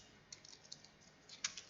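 A computer keyboard is tapped a few times for a paste shortcut, with sparse light clicks close by and one sharper keystroke near the end, faint and quiet with no talk.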